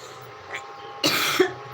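A single close cough from a person feeling unwell, one sharp harsh burst followed by a brief throaty catch.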